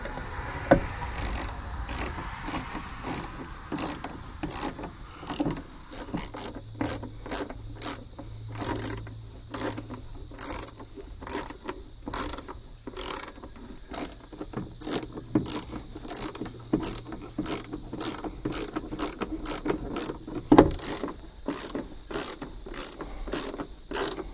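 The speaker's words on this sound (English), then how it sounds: "So I'll get my ratchet and reattach those." A hand ratchet clicks in quick repeated bursts while tightening four 8mm screws on the rear AC unit of a 1998 Ford Econoline van, close and crisp with short pauses between strokes.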